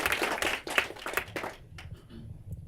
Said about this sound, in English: Let's clap it up for Angie.